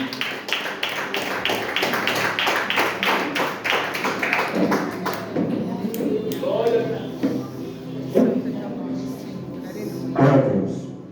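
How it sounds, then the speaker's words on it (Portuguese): A church congregation claps together in a steady rhythmic beat for several seconds, and the clapping then fades beneath a voice that continues speaking and calling out. "sempre aplaudindo o Senhor, irmão"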